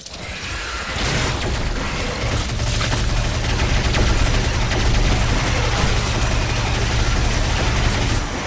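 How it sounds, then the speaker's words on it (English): A chain gun fires in the video game Quake, a loud, sustained rapid stream of shots that begins about a second in and continues without pause to the end. "to give you a chance to use the chain gun here"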